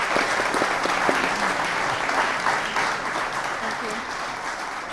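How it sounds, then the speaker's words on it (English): A mayoral candidate forum audience applauds the candidates and panelists with sustained, fairly loud clapping from a room full of people, holding steady throughout before easing slightly at the close. "Now's your chance if you'd like to applaud all of our candidates and our panelists."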